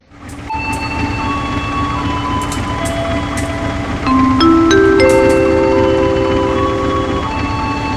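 Ciliwung commuter train in Trainz Simulator, a steady loud rumble of the running train with sustained tonal whines that rise and thicken partway through, continuous throughout with no talking.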